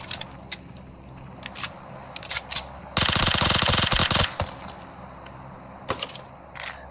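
Uzi submachine gun fire in PUBG Mobile, one rapid burst of dense automatic shots lasting just over a second, set between scattered clicks and small game sounds.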